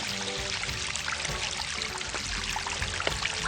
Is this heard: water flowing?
yes